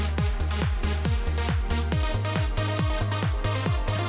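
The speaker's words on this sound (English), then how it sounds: "let's really listen to that melody and have it open, because it sounds like this" Old-school trance track with a synth melody over a driving four-on-the-floor kick and pulsing bass, steady and loud, with no voices.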